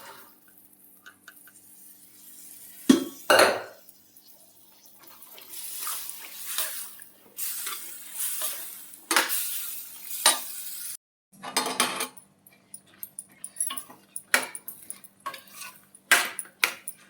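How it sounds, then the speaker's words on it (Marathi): Boiled chickpeas are tipped into masala in a pan and stirred, with scattered scraping, clinking and soft sizzling bursts at irregular intervals, close by and without talk. "आता हे चणे नाही का शिजवून घेतलेले ते टाकूया."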